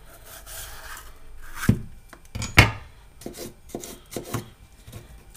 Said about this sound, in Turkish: Biberleri de şöyle şu boylarda jülyen şeklinde doğruyorum.